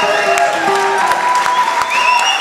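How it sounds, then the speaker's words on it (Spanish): An audience at a tango concert gives a burst of warm applause, steady and fairly loud, with faint murmurs of the crowd underneath. "un fuerte aplauso para él"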